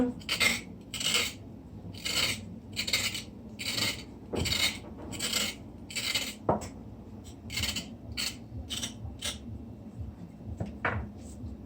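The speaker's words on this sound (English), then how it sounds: "You're gonna scrape the carrot." Quick, rhythmic rasping strokes of a carrot being scraped, close and fairly quiet, with an occasional clink of kitchenware.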